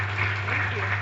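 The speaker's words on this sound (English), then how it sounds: "A round of applause for him, ladies and gentlemen," Audience applause for a speaker at a book presentation keynote: a steady wash of clapping hands filling the room, with a low constant hum underneath.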